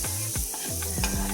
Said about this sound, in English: Next, I'm going to heat up a frying pan and add some butter.